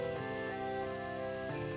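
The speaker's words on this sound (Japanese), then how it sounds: "セミがうるさいな。" Cicadas on a balcony screen door give a loud, close, unbroken high-pitched buzz that holds steady throughout, with a faint low hum beneath.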